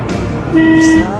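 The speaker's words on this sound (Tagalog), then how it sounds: "Wow, ang lakas ng busina ko" A single loud vehicle horn blast, about half a second long, sounds close by over a low engine rumble from a vehicle hauling rice.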